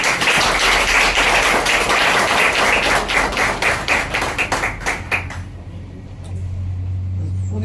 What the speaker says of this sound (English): give another round of applause to the entire team